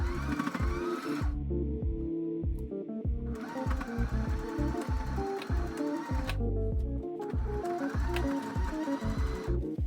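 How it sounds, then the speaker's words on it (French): Sewing machine stitching the sides of a fabric pocket from the outside, running in a loud, fast, steady mechanical chatter, near and continuous with brief tonal shifts in between; no talking. "je vais coudre les côtés de la poche par l'extérieur"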